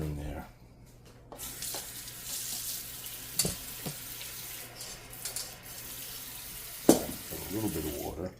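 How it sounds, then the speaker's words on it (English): Water is poured into pancake batter made with homemade buttermilk and cinnamon, giving a faint, uneven trickle and splash with a few sharp knocks and clinks of kitchenware nearby. "I'm going to get a little water in there."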